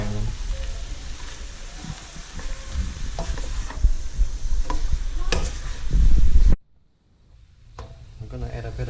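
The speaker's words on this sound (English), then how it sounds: "so we're just frying them" Washed leafy greens fry and get stirred in a pan during Malaysian village cooking, a steady loud sizzle with scraping and clattering of the utensil, then a sudden cut to near silence before a softer sizzle returns.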